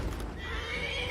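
A horse in the Skyrim VR video game gives one loud whinny with a rising, quavering pitch, heard close and clear, with faint hoof clatter at the start.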